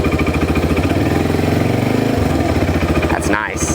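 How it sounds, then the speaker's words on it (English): A small vehicle's engine runs close by with a fast, steady putter, its pulse shifting slightly in pitch, and a voice speaks briefly over it near the end. "I guess you got to fire it up so they can hear how this thing runs"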